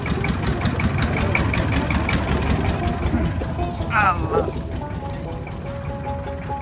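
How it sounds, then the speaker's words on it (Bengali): A river trawler boat's engine idles and thrums steadily near a river char. The drone is loud and continuous at first and eases slightly later on, with a brief whistling sound in the middle. "আর ওই ট্রলার যাচ্ছে আপনার, ট্রলারটা আপনার ওই দিকেই ঘাট দেবে"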